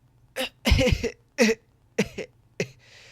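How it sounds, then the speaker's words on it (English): Several short, sharp coughs and throat-clearing bursts come in an uneven series from one nearby person, each separated by brief silence. "I didn't laugh. I coughed."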